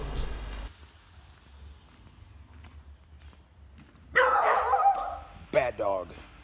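A dog in a rural home setting in Dak Lak, Vietnam's Central Highlands, gives a loud close bark followed by a second sharper yelp a moment later, with faint voices around.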